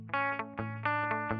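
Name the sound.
guitar delay effect on NUX MG300 MKII multi-effects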